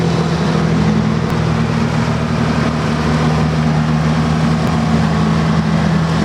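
Steady low diesel engine drone from an Iron Mule timber forwarder with a four-cylinder 192 cubic inch diesel, idling or running evenly and fairly loud throughout, with no talk.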